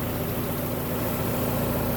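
A 1995 Mazda Miata MX-5 NA, its spark plugs and wires freshly replaced, idles at close range with a steady, even engine drone and no voices.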